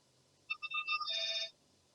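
Telephone ringtone: a short run of bright electronic beeps followed by a sustained warbling ring, clear and close against a quiet background, lasting about one second.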